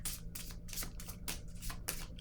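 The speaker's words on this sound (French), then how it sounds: "Je vais piger une autre carte." Tarot cards are shuffled and drawn by hand in a quick run of papery riffles and slaps, close and fairly quiet, with no voice.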